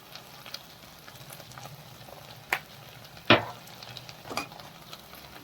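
Pasta sauce ingredients with Maggi masala and mixed herbs are stirred in a pan, a spoon scraping now and then over a faint, steady background, with a few sharper clinks spaced a second or so apart.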